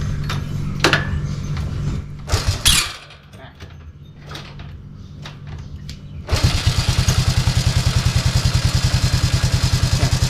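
A Honda Wave 110i motorcycle with a slipping starter gear being kick-started: clunks and scraping from the kicks give way to the engine catching and idling with a rapid, even putter, close, with someone talking early on.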